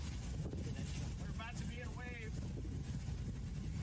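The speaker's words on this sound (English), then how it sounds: "we've got 85, maybe 90 mile an hour wind" Strong hurricane wind from Hurricane Milton battering Florida: a steady, dense roar that fills the whole stretch without letting up, with faint tonal whines briefly rising through it.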